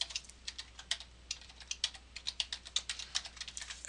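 Rapid, irregular clicks of keys on a computer keyboard while entering input for a C program, steady and fairly close, with no voices.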